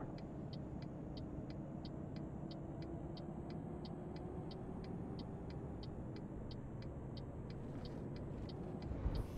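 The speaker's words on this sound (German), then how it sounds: "Motorbremse, die zieht auf jeden Fall heftig." Truck engine braking in the Euro Truck Simulator video game: a steady, heavy engine drone with a regular high ticking pulse above it, continuous throughout.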